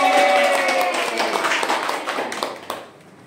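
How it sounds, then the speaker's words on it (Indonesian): Classroom students clap their hands together, a dense scattered patter of many claps filling the room, steady at first and then thinning out and fading near the end. "Nasya, tepuk tangan dulu dong"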